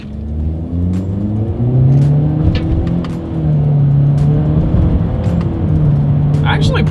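A 2020 Honda Accord with a CVT revs up during a paddle-shifter test, the engine note climbing and dropping in steps as shifts click in, with someone talking over the steady interior rumble.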